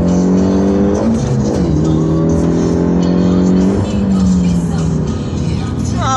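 A Peugeot 308 GTi with 272 HP accelerates hard through the gears, its loud close engine note rising in pitch, dropping at each shift and climbing again, with cabin road noise throughout.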